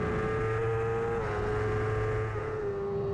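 Racing motorcycles at the 2019 Southern 100 road race on the Isle of Man scream along the fast Great Meadow section in a continuous, loud, high engine drone whose pitch dips slightly as they pass, with no commentary heard.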